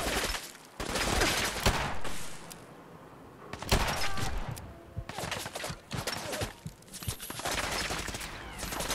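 Sustained gunfire from raiders in a video game, with overlapping bursts of distant shots and rapid volleys cracking irregularly for several seconds, loud and dense with brief lulls between flurries.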